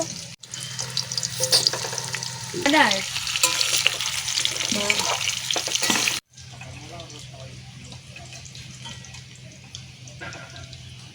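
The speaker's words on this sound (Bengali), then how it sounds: "এখানে আলুগুলো এক একে ভেজে নেব" Potatoes crackle loudly in hot oil, then after an abrupt cut the frying continues as a softer, steady sizzle.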